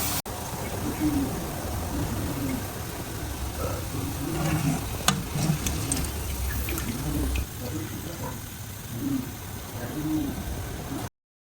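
A batch of onions deep fries in oil until brown, producing a constant bubbling hiss with occasional clicks, while a person talks over it before the sound cuts off abruptly.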